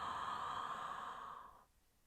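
A long ujjayi exhale is drawn out through the nose, a soft steady hiss like a sigh that carries for about a second and a half, then stops into near silence.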